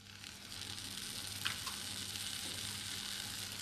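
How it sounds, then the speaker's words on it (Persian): Barberries sizzle and crackle in a hot frying pan, a steady close hiss holding through the whole stretch with a couple of small clicks partway, no talking. "مایتابه رو دوباره روی حرارت میذارم، زرشک رو داخلش میریزم"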